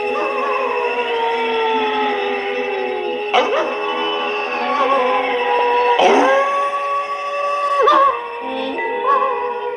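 A wolf howls in the opening of a Scooby-Doo cartoon episode set in snowy country, long wavering tonal howls rising and falling over several seconds, loud and close, with spooky music beneath.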